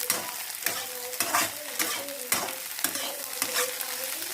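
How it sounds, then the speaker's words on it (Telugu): Onions and green chillies frying in a pan for restaurant-style egg fried rice, an up-close crackling sizzle punctuated by regular scraping strokes of a stirring spatula, about one every half second. "సో ఉల్లిపాయ పచ్చిమిరపకాయలు వేసుకోవాలి"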